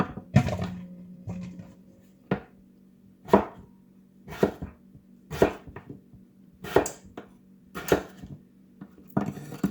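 A knife slices through potatoes on a board in a series of sharp, fairly close chops at an uneven pace, each cut a crisp knock against the surface.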